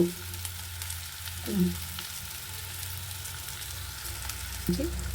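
Fried rice in a pan being gently turned, with a soft continuous sizzle and a low hum, plus two brief scraping stirs of a utensil, quiet and close, without talk.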